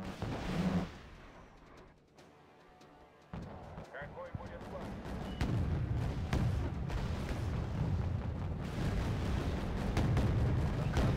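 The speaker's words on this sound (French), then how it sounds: "ils viennent me foutre un missile dans mon Sovereigny, ça j'apprécie pas par contre" In Wargame: Red Dragon, a missile strikes a Sovereignty-class naval ship, setting off a deep, rumbling explosion that builds into a loud, sustained roar of battle noise after a quieter start, with a voice speaking over it.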